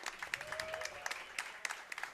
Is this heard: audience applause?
yes